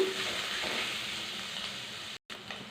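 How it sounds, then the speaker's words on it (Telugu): Ginger paste frying in a pan for an egg and potato gravy curry, a soft, steady sizzle with light crackle running evenly and close, briefly cut off near the end before resuming. "అల్లం పేస్టు కొద్దిగా పచ్చి వాసన పోయేదాకా వేపుకున్నాము."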